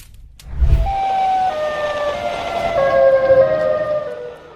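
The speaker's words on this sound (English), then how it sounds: "startled by a loud, eerie siren sound" A loud, eerie siren wails after a brief low thump, its sliding tones rising and falling for several seconds in the open.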